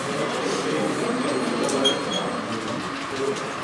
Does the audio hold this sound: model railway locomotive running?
yes